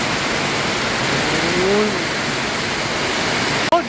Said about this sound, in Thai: ฝนทั้งนั้นเลยตกหนักมากมาย